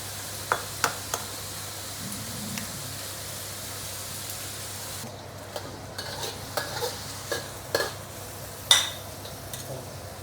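Mee goreng noodles are stir-fried in a pan, with a steady sizzle under repeated sharp scrapes and clinks of a spatula against metal at an uneven pace, up close.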